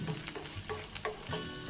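Dry red chillies fry in a pan while being stirred, a faint, continuous crackle broken by a few soft scraping strokes.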